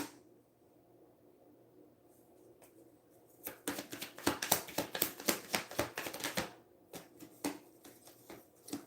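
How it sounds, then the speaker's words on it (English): Tarot cards are shuffled up close. A quiet stretch gives way to a quick burst of crisp riffling and slapping, which then eases into a few scattered taps. "I'm going to shuffle again and make sure."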